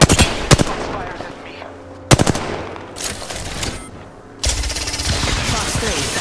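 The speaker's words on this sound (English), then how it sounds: "Shots fired at me." Bursts of automatic gunfire from the video game Apex Legends, with sharp rapid volleys at the start and middle followed by a long sustained stretch of firing, loud and close.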